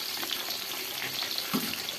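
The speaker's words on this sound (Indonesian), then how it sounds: "Lalu goreng tempenya." Tempeh fries in oil over medium heat, giving a steady, dense sizzle that holds evenly throughout, with no talk over it.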